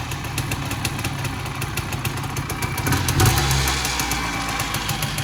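A 1990 Suzuki LT250R quadracer engine idles nearby in a steady, uneven mechanical putter, rising to a brief, louder rev past the midpoint before settling back, with no talking.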